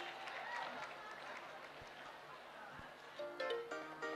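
A crowd applauds at the signing of the Kenya Kwanza Women's Charter as the Uasin Gishu County women's representative is welcomed, clapping scattered and moderate, swelling briefly near the end.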